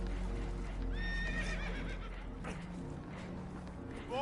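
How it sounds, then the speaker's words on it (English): Spooked horses neigh and whinny in an animated scene aboard a damaged boat taking on water, shrill whinnies rising over a steady rumbling background with hoof clatter. "Horses are spooked, and we're taking on water."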